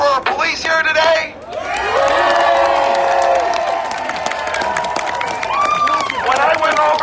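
An outdoor political rally crowd in Lansing, Michigan, cheers and applauds for police, with loud sustained shouting and clapping rising after a brief lull and holding steady, whoops and voices carrying over the roar.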